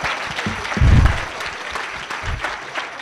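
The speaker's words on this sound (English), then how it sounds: "Give yourselves a round of applause." Audience at the 2019 North Carolina Child Hunger Leaders Conference breaks into brief applause, a dense wash of clapping from a crowd in a hall that swells quickly and then tapers off over about three seconds.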